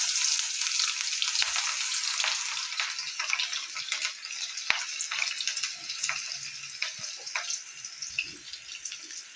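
Cabbage pakodi frying in hot oil, a dense, steady crackling sizzle throughout with scattered sharper pops, close and fairly loud, with no talking.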